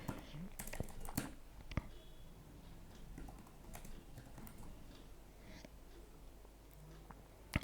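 C# code being typed on a computer keyboard, a quiet, irregular patter of key clicks with a few sharper taps, close by, with soft speech at times.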